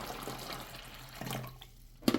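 Filtered water poured into the reservoir of a small portable bullet ice maker, a steady close splashing trickle that ends with a short clunk.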